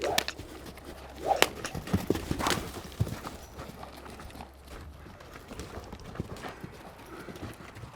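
A horse on its first saddling walks with clip-clopping hooves, soft irregular hoof strikes spread through the whole stretch amid outdoor ambience, with occasional bird calls in the background.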